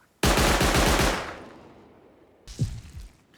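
An electric turret in the game Rust lets off a loud, close burst of rapid automatic fire lasting about a second, followed by a fading tail and one more heavy bang, with no talking.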